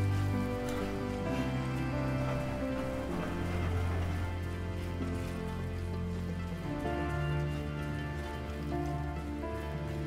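Soft, steady rain patters quietly beneath sustained background music in Death Stranding, with no talking.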